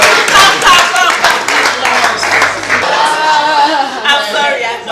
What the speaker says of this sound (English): Let's clap for Wale Soyinka.